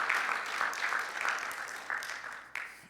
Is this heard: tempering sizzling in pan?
no